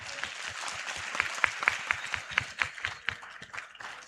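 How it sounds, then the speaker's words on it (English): Audience applause at a youth indaba event, moderate in volume and somewhat thin, with individual claps standing out in an irregular rhythm over the full four seconds. "Can we give a round of applause?"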